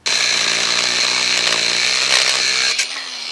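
A loud, steady power-tool whine cuts through the threaded rod ends of a farm gate hinge for about three seconds, then drops in pitch and loudness as the cut finishes, with no talking.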